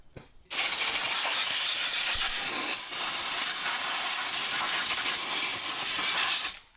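Steady, loud, close hiss of air escaping from a leaking airbox gasket on a running Detroit Diesel 6-71 engine, continuous for about six seconds with abrupt start and stop.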